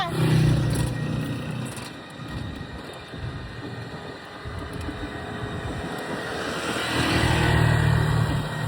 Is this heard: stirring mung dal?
no